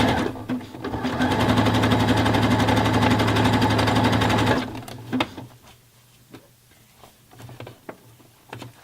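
A sewing machine runs a 3-step zigzag stitch over bra strap elastic in a fast, steady rattle for about four seconds, then stops, leaving soft handling clicks.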